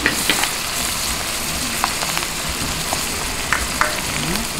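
Onion and tomato sautéing in a pan for a Bicol Express chicken feet dish, a dense continuous sizzle with occasional light scrapes and taps from stirring, close and fairly loud, no talking.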